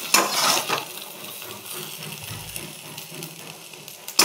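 Food sizzles in hot oil in a kadai, a steady hissing fry with occasional scraping and clinks as pieces are lifted out, louder at the start and end.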